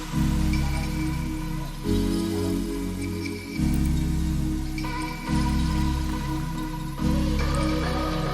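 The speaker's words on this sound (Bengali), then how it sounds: "তেল গরম করে রেখেছিলাম। এবার প্যাটিসগুলো এক এক করে তেলে ছেড়ে দিচ্ছি।" Potato patties frying in hot oil make a dense, steady sizzle and crackle, loud and close, swelling and easing in waves, with no voices.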